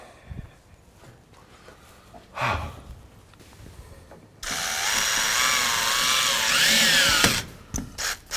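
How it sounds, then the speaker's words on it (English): Power drill driving screws into a wooden shutter plank on a boat restoration, giving a loud sustained whine of about three seconds after quieter handling noises, with short bursts at the end. "I'll get a couple screws in there."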